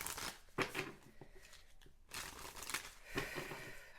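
Tarot cards being shuffled and drawn from a deck: papery riffling and sliding in short bursts, with a brief lull near the middle before the shuffling resumes, close and fairly soft, with no talk.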